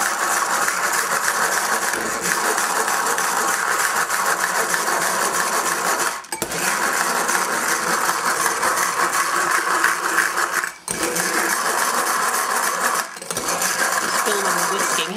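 An electric mixer whisks egg whites into stiff meringue for a lemon meringue pie, a steady loud whirring drone that runs almost unbroken with a few brief dips as the beaters shift.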